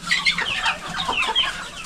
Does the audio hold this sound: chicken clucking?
yes